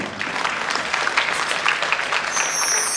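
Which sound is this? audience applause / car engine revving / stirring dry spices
audience applause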